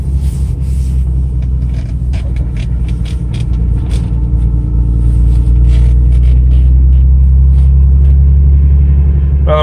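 Deep, steady rumble of a Nissan Z sports car engine idling close by, heavy low-end drone that swells slightly louder partway through, with light scraping clicks above it.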